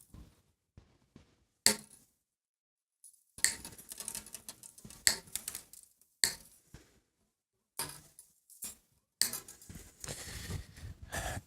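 Wire cutters snip acoustic guitar strings, producing sharp isolated clicks and short metallic bursts separated by quiet gaps, close and fairly faint.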